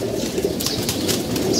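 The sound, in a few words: pigeons cooing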